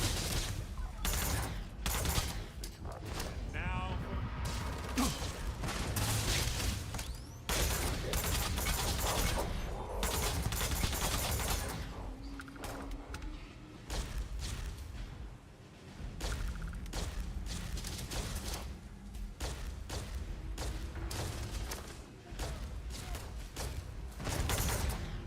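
Dense video game gunfire goes on without a break: rapid bursts, single cracks and thuds mixed with mechanical clanks and whooshes, loud and close, with a voice briefly heard under the shooting.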